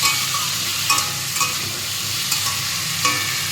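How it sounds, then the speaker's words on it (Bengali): Spice paste frying in a pan with fried lentil dumplings for a Bengali shukto: a continuous close sizzle punctuated by regular scraping stirs of a spatula about every half second. "মশলাটা কষা হতে হতে এর মধ্যে লবণ টবণ সব ঢুকে যাবে"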